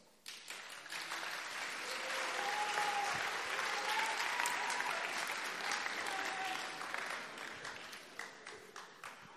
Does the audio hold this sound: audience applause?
yes